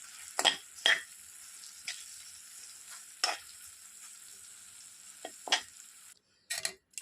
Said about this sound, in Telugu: ఇప్పుడు మనం చేసుకున్న ఈ మంచూరియన్ వేసుకొని బాగా కలపాలి